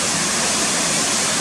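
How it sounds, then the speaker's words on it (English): Waterfalls pour down Swinner Gill in the Yorkshire Dales, a steady, loud, full-bodied rush of falling water with no pause across the short stretch. "A nice bird's eye shot of the waterfalls coming down Swinner Gill."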